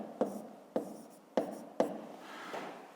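A pen scratches across paper in four sharp taps and short strokes, quiet and close, spaced about half a second apart.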